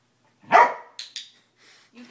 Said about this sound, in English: You can't bark if you're dead.